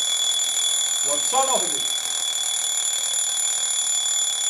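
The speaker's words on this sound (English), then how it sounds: "This is sound of an alarm clock." An alarm clock rings with a continuous, shrill high-pitched tone that stays steady and loud throughout, while a voice briefly asks a question over it.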